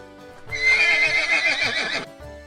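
A horse gives one loud, close neigh of about a second and a half, a long shaky whinny that rises and then trails off, with soft hoof clip-clops and quiet background sounds before and after it.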